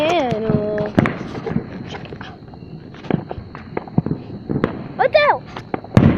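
Fireworks at an outdoor show pop and crackle in scattered bursts, with whistling rockets rising, while people talk nearby and footsteps shuffle.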